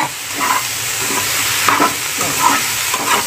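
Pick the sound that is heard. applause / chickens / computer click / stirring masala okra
stirring masala okra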